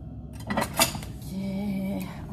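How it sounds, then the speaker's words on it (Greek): Plates and cutlery clink and clatter as dishes are dried by hand in a home kitchen. A few sharp metallic knocks come first, then a softer scraping rattle, all close by. "Θα σκουπίσω λίγο τα πιάτα."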